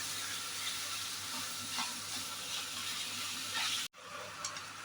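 Mutton pieces with turmeric powder frying for rogan josh give a steady, close sizzle with faint stirring, cutting off briefly near the end before the sizzle resumes.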